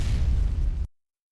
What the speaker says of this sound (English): So about here was where the explosion actually works.